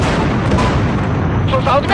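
Tank cannon fire in the video game Battlefield Hardline, a loud heavy boom with a rumbling tail, while someone talks over it.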